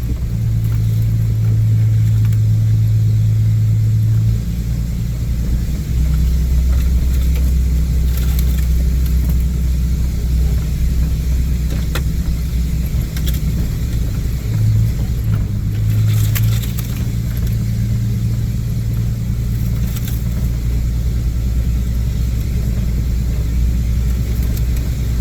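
A pickup truck creeps slowly up a narrow holler road in West Virginia, its engine a low steady rumble close by with a few small shifts in pitch, running on without any talk.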